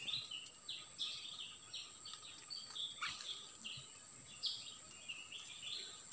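Wild kutilang emas bulbuls calling in open countryside, a steady stream of bright chirps and short whistled phrases at moderate distance over a constant high insect drone.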